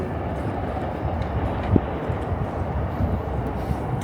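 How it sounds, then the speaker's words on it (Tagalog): A Shinkansen bullet train runs past Tokyo Station, a steady, moderately loud rumble of rolling cars with faint rail clicks and wind noise, heard from above at a distance. "Bullet train."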